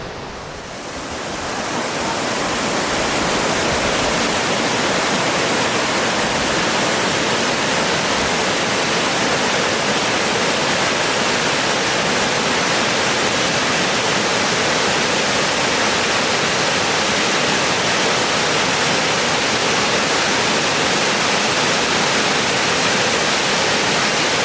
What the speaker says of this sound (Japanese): 白ひげの滝どうぞ。